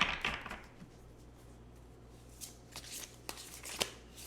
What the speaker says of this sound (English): Let's get another oracle card.